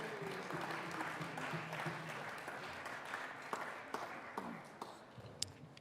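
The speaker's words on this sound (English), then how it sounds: "Let's give them a round of applause." Applause in a state Senate chamber, a modest round of clapping from lawmakers that stays fairly quiet and distant, thinning out into scattered individual claps near the end.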